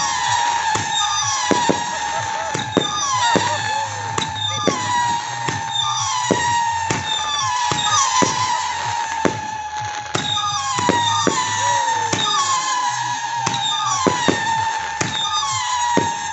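Fireworks at a display in Egerág, Hungary, including a 30 mm 25-shot cake: a steady run of sharp bangs and cracks roughly every second, loud and close, with whistling and crackle between bursts.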